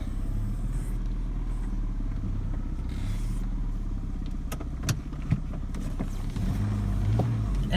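A Saab 900 Commemorative Edition idles and rolls slowly out of a garage, a steady low engine rumble close by with a few light scrapes and clicks.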